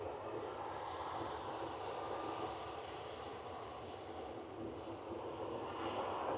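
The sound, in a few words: jet airliner CFM56 engines spooling up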